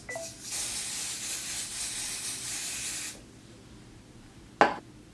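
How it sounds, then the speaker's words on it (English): A steady hiss of spray is applied to the lace of a 13x4 lace frontal wig for about three seconds, close and fairly soft, then stops and is followed by a single sharp tap. "Like spraying on top of the lace or spraying underneath?"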